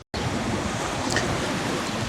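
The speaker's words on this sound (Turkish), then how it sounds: "Denizin sesi muhteşem geliyor." Sea waves at Anzac Cove on the Gallipoli peninsula, a continuous washing surf roar after a brief silent start, steady and moderately loud with no voices.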